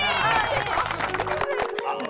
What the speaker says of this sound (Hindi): सब बजाओ ताली